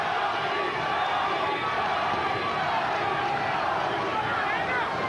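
A boxing arena crowd during the Arturo Gatti versus Angel Manfredy fight keeps up a dense, continuous roar of chanting and cheering, distant and filling, with a commentator's voice mixed underneath.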